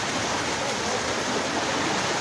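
Water pours and rushes steadily at a waterfall at Nagiapasi on the Kapilas road, a dense, continuous broadband roar with no pauses and no voices.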